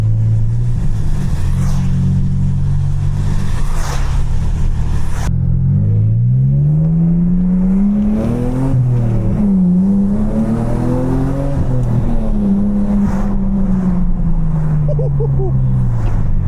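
A BMW E46 accelerates on a wet, rainy road, its engine note rising and falling through several gear changes amid a constant wash of road and rain noise. A person talks over it.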